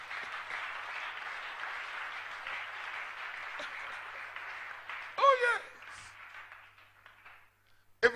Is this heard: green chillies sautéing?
no